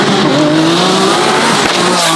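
A twin-turbo Lamborghini Aventador SVJ accelerating hard, its engine roaring loud and close with rising pitch sweeps through gear shifts, a continuous aggressive wail.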